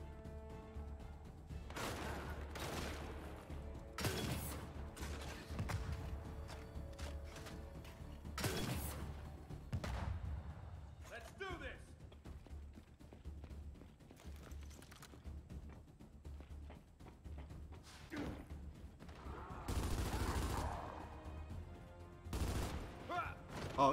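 Boomshot grenade launcher shots and blasts in Gears 5 online co-op, a series of separate loud booms spaced a few seconds apart amid mechanical clanks and game noise, with people talking at times.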